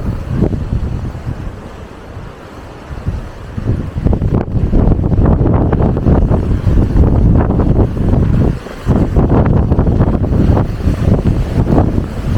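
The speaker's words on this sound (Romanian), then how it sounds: "Bate vântul frunza în dungă, în camera din mână mi-o alungă aproape." Wind blowing hard outdoors on Mykonos near the Chora beach, strong gusts buffeting the microphone in a loud roaring wash that rises and dips, with no one speaking.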